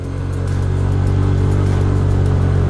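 A cheap super sport motorcycle bought at Walmart hums along while being ridden, its engine a loud, steady, buzzing drone close by, slightly rising in the first half-second, with no talking.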